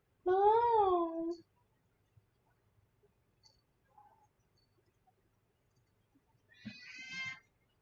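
A cat lets out a loud, close wavering meow right after waking, then falls quiet. A second, shorter meow comes near the end.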